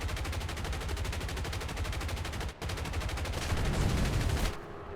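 Aircraft machine guns in War Thunder hammer out a fast, steady, loud stream of rounds, with a brief pause midway and then continuous firing again, and no talking over it.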